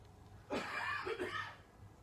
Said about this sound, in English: my husband coughing